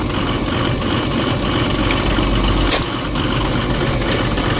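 A Cummins diesel engine that sat unused for years runs steadily at a rough idle, a loud, continuous low rumble with no speech over it.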